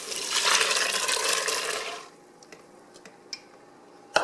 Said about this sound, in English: add in the kidney beans with the water it was soaked in.